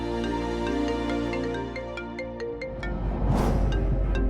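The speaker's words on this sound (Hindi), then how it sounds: "वही फोन जिसे सुबह बंद हालत में लाया गया था, अब बज रहा था" A phone lying on a table in a police evidence room rings late at night with a repeating melodic ringtone that swells into a louder, harsher burst near the end.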